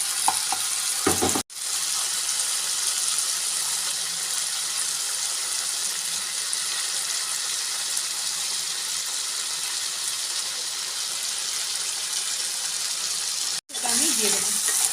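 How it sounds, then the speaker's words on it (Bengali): Spice paste sizzles in hot oil with marinated pointed gourd pieces, a loud continuous hiss and crackle that runs steadily for most of the stretch, broken by brief gaps at the start and end where a voice talks. "মশলাটা 2 মিনিট ভাজার পরে আমি একে একে ম্যারিনেট করা পটলগুলো দিয়ে দেব।"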